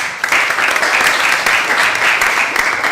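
Applause from students in a classroom, a dense steady wash of many hands clapping throughout, loud and close.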